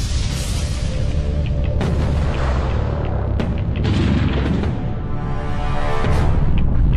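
Dense, continuous rumbling blast with a deep low roar and scattered sharp booms, presented as a cosmic explosion of the kind that formed the early Earth; loud and sustained throughout with no speech.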